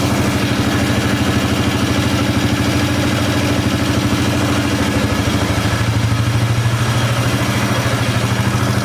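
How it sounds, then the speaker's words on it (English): A Polaris 325/330 Magnum ATV engine idles steadily after an engine swap, with a close, continuous low chugging throb and a mechanical clatter that runs unbroken from start to finish. "I might have to idle it up a little bit"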